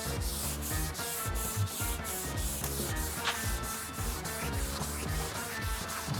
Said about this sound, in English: Basically what we're doing is sanding it down until that orange peel has disappeared.